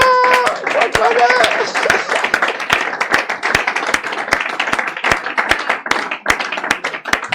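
A church congregation clapping and applauding, rapid sharp handclaps in a loose steady rhythm throughout, with a voice speaking and singing over the start.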